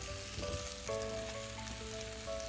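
Three large cut tomatoes sizzle softly in a pan for a Thakali tomato pickle. The sizzle is a faint crackle under background music with sustained tones, and no one speaks.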